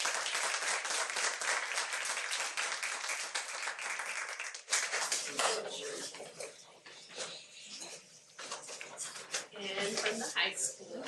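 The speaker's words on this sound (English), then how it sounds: "but another round of applause for." Audience applause at a small community event recognizing student painters, dense clapping that breaks off partway, then returns in scattered bursts with voices talking and murmuring in between.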